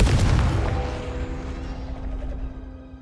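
Confringo fire spell explodes in Hogwarts Legacy, a loud booming blast at the start that rolls into a long, fading rumble with a steady tonal hum underneath.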